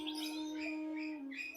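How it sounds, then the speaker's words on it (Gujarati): A parrot calls in a steady, bright, sustained tone with chirpy overtones at a parrot park in Leicester, fairly faint and continuous, with no voices present. "અને જો આ પોપટ છે"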